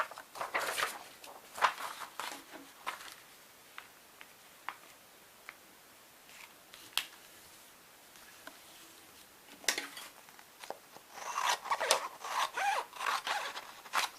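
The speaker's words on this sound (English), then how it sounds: "I will intentionally cut those pages shorter this way" Scissors cutting journal pages shorter, giving quiet intermittent snips and paper rustles, soft and close, with brief louder crinkling toward the end.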